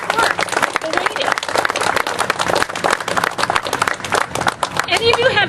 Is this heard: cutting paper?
no